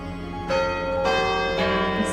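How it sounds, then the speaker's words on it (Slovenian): Church bells ring from the church in Žlebe, three or four resonant strokes roughly half a second apart, each leaving a long shimmering hum over a steady background. "Sladka pesem mojih zvonov, od Golega Brda do Studenčic zadonijo"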